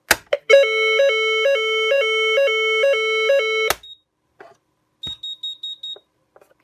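A type 4 fire alarm with two loops sounding during a test: a loud, pulsing electronic tone repeating for about three seconds, then cut off, followed by a few faint clicks and soft beeps, with no talk.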